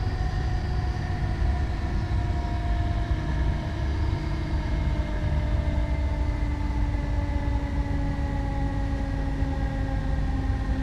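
A passenger train in Train Sim slowing into a station on the Newcastle to Edinburgh route, a steady loud rumble of wheels and motor with droning tones gradually sliding lower, no voices.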